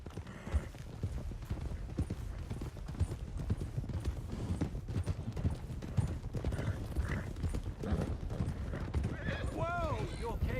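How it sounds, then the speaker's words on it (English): Horses clop steadily at close range along a trail in the Western video game Red Dead Redemption 2, with a horse whinnying near the end over constant hoof rhythm and game ambience. "Let's get these horses to Clemens Cove quick before we run into any more trouble."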